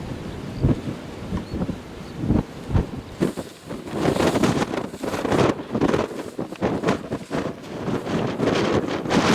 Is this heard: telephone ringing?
no